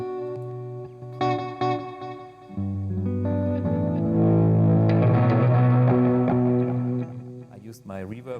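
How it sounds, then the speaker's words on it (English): Electric guitar played through an amp emulator with an echo effect, sustained chords and single notes trailing off into repeating delayed tails, loud and close, with a few isolated plucks at the start and a short decaying passage at the end. "Here's the echo."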